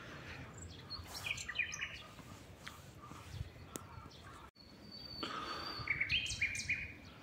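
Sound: birds singing outdoors

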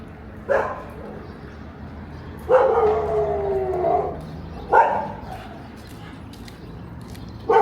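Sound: dog barking and howling

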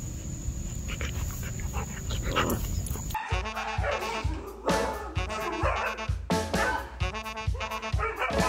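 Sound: husky puppy barking and yipping

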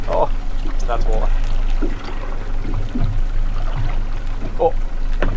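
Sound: water pouring on a fishing boat

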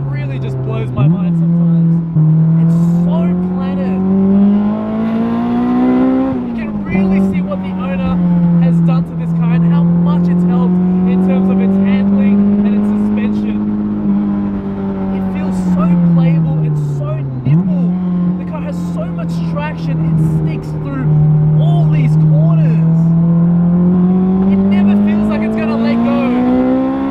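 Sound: Spoon Honda S2000 engine downshifting on track

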